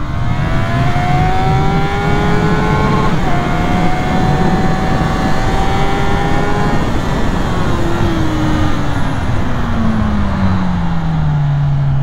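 A 2019 Honda CB650R roadster motorcycle accelerates hard through the gears, engine pitch sweeping upward, briefly dropping at each shift, then falling away, loud and continuous under wind noise.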